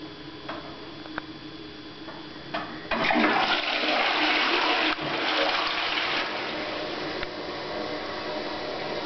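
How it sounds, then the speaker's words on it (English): A toilet in Australia runs a full flush, with a loud sudden rush of water that surges, then settles into a steady running and refilling hiss, close to the listener, with no talking. "way the water flows in an Australian toilet"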